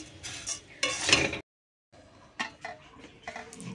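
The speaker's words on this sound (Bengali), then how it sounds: "চলো মুড়িটা ভেজে নিই।" Puffed rice (muri) roasting and being stirred in a pan gives dry, rustling scrapes in short bursts, cut off by a brief silence before the stirring resumes. The sound is close and moderately quiet, with no speech.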